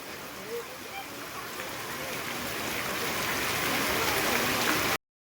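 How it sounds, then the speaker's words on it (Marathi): Heavy rain pours down steadily in a broad, hissing wash that swells gradually louder over several seconds, then cuts off abruptly near the end. "पाऊस हा वाढतच चाललेला आहे"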